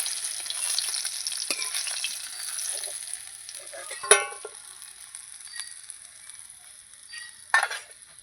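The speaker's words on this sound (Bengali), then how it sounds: "এবার মাছগুলো আমি সব ভেজে নেব" Hilsa fish frying in a pan of oil, a continuous close sizzle with a couple of sharp spatula clinks against the pan.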